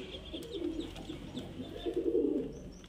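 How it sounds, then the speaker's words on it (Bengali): Pigeons of a high-flying Giribaz breed coo softly and repeatedly at close range, low throaty calls rising and falling in a steady rhythm with faint chirps in the background. "এই যে দেখুন পায়রার কোয়ালিটি, খুব সুন্দর কোয়ালিটির পায়রা ফ্রেন্ড"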